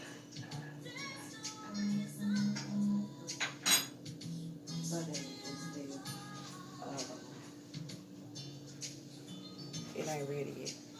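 Pots, pans and cutlery clatter and clink in a home kitchen where rice is cooking, scattered knocks and scrapes coming and going over several seconds, with people talking at times.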